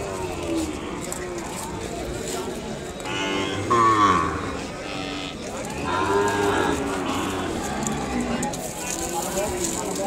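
Ongole-mix calves lowing amid a busy Kodada cattle market, several drawn-out moos rising over crowd noise while someone talks throughout.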